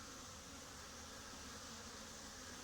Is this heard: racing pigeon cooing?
no